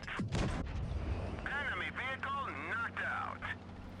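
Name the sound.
tank cannon shot from the video game World of Tanks Blitz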